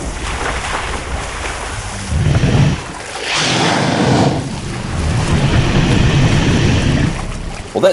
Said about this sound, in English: Does anyone hear the sound of a really angry toilet flushing?